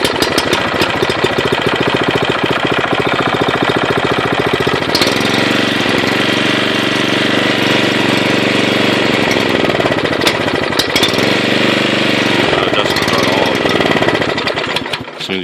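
A Troy-Bilt Proline rototiller with a carburetor fault runs loud and rough, its engine chugging and knocking unevenly, surging and sagging as if about to stall, close up with no talk.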